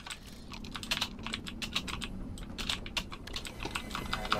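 Rapid typing on a computer keyboard during a shooter game, a dense run of close, crisp key clicks and clacks in an uneven rhythm that continues throughout without speech.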